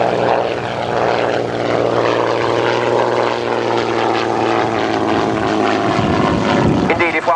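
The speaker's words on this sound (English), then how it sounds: "the Shuttleworth Collection's Hawker Hind. This, a two-seat light day bomber, flying here" A Hawker Hind two-seat light day bomber biplane flies past with a steady, loud propeller-engine drone that holds throughout, with someone talking over it.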